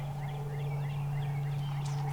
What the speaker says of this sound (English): Thumper of a gobble.